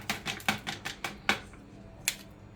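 Drain opener granules poured onto a stove grate, giving a series of sharp, close patters and ticks in irregular bursts, then a lone final rattle after a short pause.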